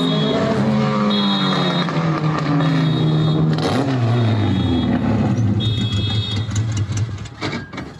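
A car engine revs hard as it buzzes a shop, a loud, close roar with rising and falling pitch sweeps and a high whine on top, dropping away near the end.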